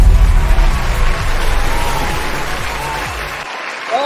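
A studio crowd bursts into loud, dense applause for two show hosts. The clapping fades after about three seconds and breaks off into near silence.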